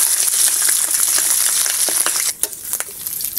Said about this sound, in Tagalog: Pagkatapos natin nilaga, ipiprito lang natin ito ng bagya.